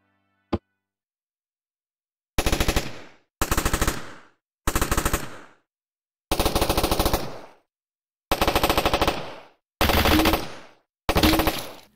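Bursts of rapid automatic gunfire from a VR game built in Python. After one lone shot come seven separate volleys of a second or so each, loud and close, with silence between them.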